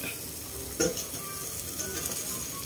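Embers on a grill being spread out, with a soft crackling sizzle, one sharper scrape near the start and faint clinks in the background.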